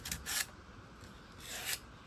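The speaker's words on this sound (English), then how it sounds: "It's kind of rough using a piece of sandpaper like this" Hand sanding of a chainsaw-carved wooden bird cabin with a piece of sandpaper, two short soft rasping strokes separated by a pause, close and quiet.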